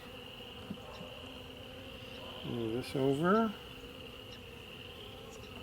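Honeybees in an opened hive with drone-laying worker bees produce a steady, close insect buzz throughout, with a voice briefly speaking partway through.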